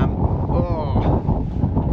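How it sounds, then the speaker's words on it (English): Strong wind buffets the microphone at an outdoor wild camp with a constant low roar, while a faint engine drone rises and fades in the background. "It's always windy, it's still windy."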